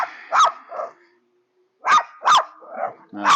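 A dog barks at neighbours outdoors around sunset, close and loud, a couple of sharp barks, a brief pause, then a quicker run of three or four more.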